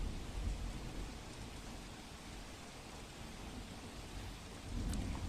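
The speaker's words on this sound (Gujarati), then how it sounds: "અડાજણ, રાંદેર, સિટી લાઇટ વિસ્તારમાં વરસાદ થઈ રહ્યો છે" Heavy monsoon rain falls across Surat, a steady, fairly faint wash of hissing water with a low rumble swelling near the end, and no voices.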